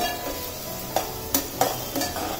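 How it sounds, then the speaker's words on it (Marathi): Sliced onion fries and sizzles in a pan over a high gas flame, with a steady hiss and several sharp scrapes of a stirring spoon. "गॅस मोठा केलेला आहे आणि मोठ्या गॅसवर हा कांदा आपण परतून घेत आहोत."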